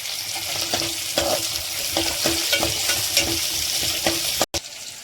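Curry leaves crackling in hot oil in a home kitchen pan, a loud close sizzle with a run of sharp pops and spatters, cut by one abrupt break near the end.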